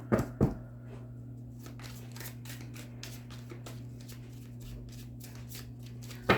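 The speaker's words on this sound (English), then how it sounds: "Get you some good shuffles in" Rapid crisp riffling of tarot cards being shuffled, repeated in quick bursts over a steady low electrical hum, close and fairly soft, with a couple of louder taps.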